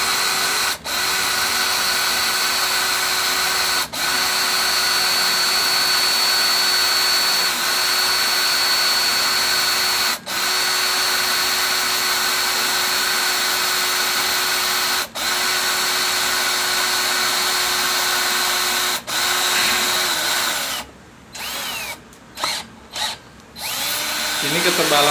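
Stanley 18V cordless hammer drill with a 4 mm bit boring into installed hollow steel about 2 mm thick, a loud continuous whining drone with brief dips, ending in several short stop-start bursts.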